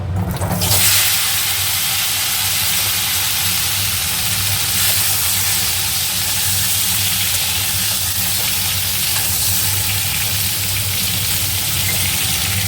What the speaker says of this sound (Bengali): ওই চিংড়ি মাছ ভাজার তেলেই এবার পটলগুলোও ভেজে নেব